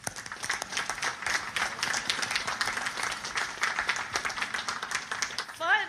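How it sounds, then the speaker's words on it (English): Sustained applause from a large audience at a Naval Academy graduation ceremony, many hands clapping densely and steadily for the distinguished graduates, with a brief louder burst near the end. "Please join me in recognizing and applauding these distinguished graduates."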